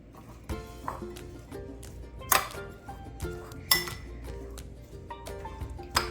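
A spoon mixes salt into sandwich filling in a bowl, making repeated light clinks and scrapes against the dish at an uneven pace, with a few sharper knocks.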